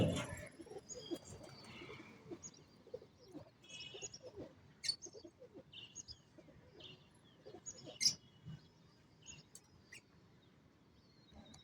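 Black Patez fighter pigeons coo softly and faintly in short, scattered bursts, mixed with light chirps and a few sharp clicks, with no talking.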